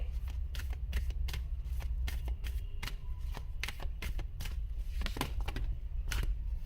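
A deck of tarot cards is shuffled and drawn close up, giving a rapid series of crisp card flicks and snaps over a low steady background hum.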